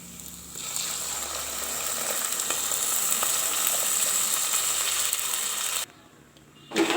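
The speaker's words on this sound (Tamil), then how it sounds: "தேவையான அளவு தண்ணி சேர்த்துக்கலாம்." Water is poured into a simmering green gram kuruma, giving a steady, close frying sizzle and bubbling that builds, then drops away near the end.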